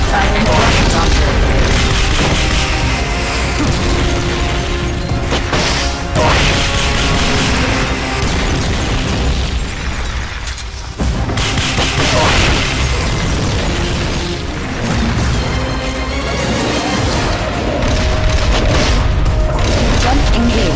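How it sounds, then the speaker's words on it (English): Rocket launcher fire in the video game Metal Gear Solid Peace Walker: dense, loud booms and bursts pile up throughout amid constant battle noise and music, with game voice callouts mixed in. "Firing rocket launcher."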